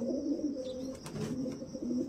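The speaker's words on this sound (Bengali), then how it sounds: "টা জিরা ধরনের পায়রা বলে, আমরা বলি জিরা, কলকাতা ভাষায় বলে জিরা।" A jira pigeon gives soft, low, throaty coos, close and fairly faint, over a couple of seconds.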